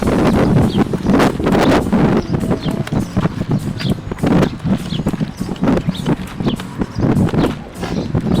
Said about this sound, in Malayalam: ഇത് കടലിൻ്റെ സൈഡായതുകൊണ്ട് നല്ല കാറ്റുണ്ട് കേട്ടോ.